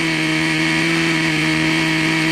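A small nitro engine in a vintage Traxxas Stampede RC car idles steadily with a high, buzzing whine and constant rattle, loud and close, with no speech.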